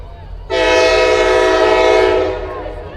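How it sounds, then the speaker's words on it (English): Train horn blowing loud and close beside a soccer stadium during a college men's match, a steady sustained blast starting abruptly, holding for about two seconds and then fading, with crowd and field ambience underneath. "train rolling by Bishop Darcy Stadium."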